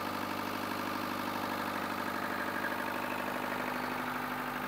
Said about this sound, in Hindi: आप देख सकते हो, ये जेनसेट स्टार्ट हो चुका है।